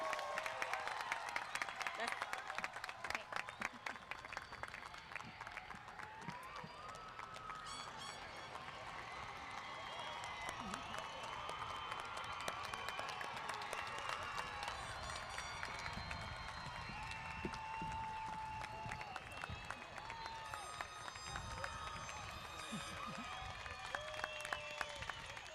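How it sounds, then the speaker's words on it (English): Sustained applause from a large audience at a high school graduation ceremony, steady and dense throughout, with scattered cheers and crowd noise mixed in. "giving a round of applause to the graduating class of 2022"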